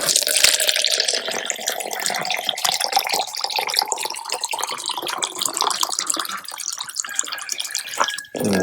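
Tap water pours steadily into a bucket for a worm bed, a continuous close splashing rush that holds for several seconds and then shifts near the end, with no talking.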